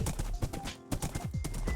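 Hooves of a horse running in Minecraft, a quick, close, repeating clip-clop at a galloping rhythm that continues throughout.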